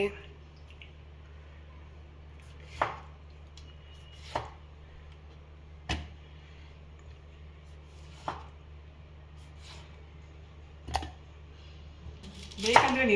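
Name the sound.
chopping green chillies with a knife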